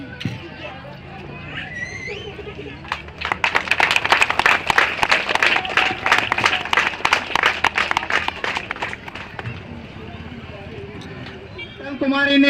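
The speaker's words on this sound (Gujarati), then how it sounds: "આ જ્યારે મંગળસૂત્ર પહેરવામાં આવ્યું ત્યારે બધા જોરદાર તાળી પાડો" Guests clap after the mangalsutra is tied at a Christian wedding, a burst of lively applause that swells in the middle and then fades, with people talking before and after.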